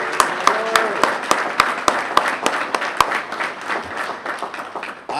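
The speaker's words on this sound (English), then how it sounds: "Let's give the rollers a round of applause." Steady, evenly spaced handclaps ring out from a small group at a press conference, fading toward the end, with a voice briefly heard at the start.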